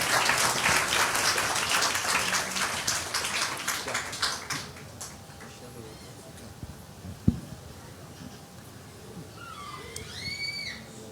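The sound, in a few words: church congregation applauding to welcome Pastor Colin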